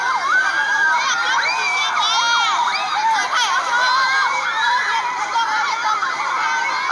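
A crowd of football club supporters cheers and shouts continuously as athletes board a vehicle at a welcome event in Luang Prabang, with children's high voices prominent throughout.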